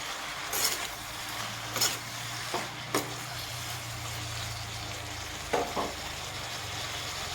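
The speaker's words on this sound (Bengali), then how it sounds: "মশলাটাকে আমি ভালো করে সবজির সাথে কষিয়ে নেব" A spice paste fries with potatoes, eggplant, ridge gourd and tomato in a pan, giving a steady sizzle under low hiss, broken by several sharp scraping stirs.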